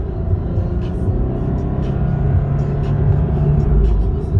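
Lexus IS 300 AWD F Sport engine accelerating under throttle in sport mode, a steady low rumbling drone with a rising tonal note, heard from inside the car at a constant loud level with no talk.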